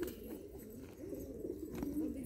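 Pigeons coo softly in low, throaty murmurs that come and go, close by, over a faint background hum.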